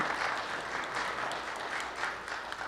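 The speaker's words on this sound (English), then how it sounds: "Can we clap that up right there?" A crowd at a community forum about rebuilding a stadium gives brief, steady applause, a soft continuous patter of many hands without a clear start or finish.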